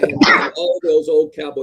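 A single sneeze bursts out near the start, loud and close, followed by someone talking in a restaurant setting.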